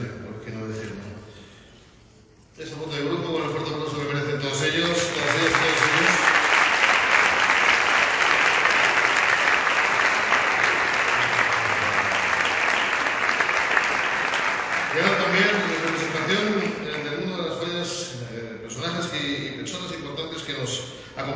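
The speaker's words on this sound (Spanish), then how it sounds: "Ese voto de grupo con el fuerte aplauso que merecen todos ellos." A crowd at a Fallas book presentation event bursts into loud, sustained applause lasting about ten seconds. Someone speaks before the clapping starts and again as it fades out.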